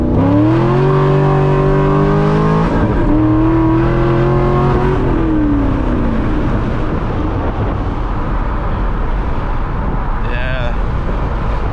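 A modified 500-horsepower C6 Corvette pulls hard in second gear from a roll with traction control off, its engine note climbing steeply then shifting and roaring on loudly throughout, with some talk mixed in.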